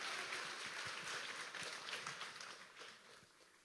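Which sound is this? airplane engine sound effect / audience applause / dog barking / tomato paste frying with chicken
audience applause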